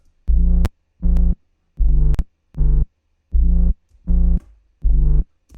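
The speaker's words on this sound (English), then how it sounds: "Okay, so these subs sound like this all together." Deep sub bass synth notes in a rhythmic pattern, eight sustained booming hits with short gaps, loud and alone.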